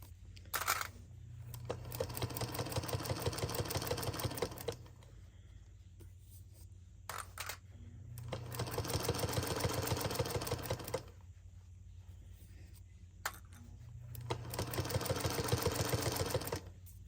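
A Singer Featherweight sewing machine stitches the sides of a cover in three separate bursts of fast, steady mechanical clatter. Short pauses and small handling clicks fall between the bursts, and nobody speaks.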